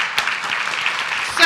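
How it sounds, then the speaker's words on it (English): A brief, moderate burst of applause from people at a city council meeting for the Robo Pirates robotics team, a soft even patter with a slightly sharper clap near the start. "Let's give them a round of applause, please."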